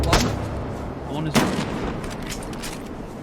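Echoing gunfire in DayZ: two sharp shots ring out, one near the start and a louder one midway, each trailing off into a long reverberant tail over a noisy background.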